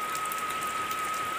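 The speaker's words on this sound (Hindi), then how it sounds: "इतनी तेज बारिश पड़ रही है" Steady, dense heavy rainfall hisses without a break in a cold hill village, with a thin high whistle running underneath.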